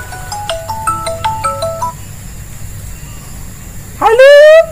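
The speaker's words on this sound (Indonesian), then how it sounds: "Handphone siapa tu?" A mobile phone ringtone plays a bright, stepped electronic melody of repeating tones for about two seconds, then a loud, rising chirpy burst of another phone tone cuts in near the end, in a Malaysian village film scene.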